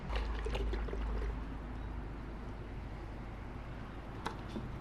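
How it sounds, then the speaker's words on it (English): Water runs through the hose of a universal washer fluid reservoir bottle, a steady close hiss of spraying liquid that holds for the whole stretch, a little fuller at the start. "For some reason the water is already going into the hose."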